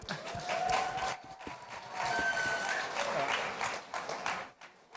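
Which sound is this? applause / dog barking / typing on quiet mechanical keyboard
applause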